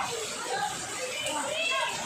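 Neighbourhood children playing in waist-deep floodwater during a typhoon, their voices and splashing close and lively, mixed with adult talk over continuous water noise.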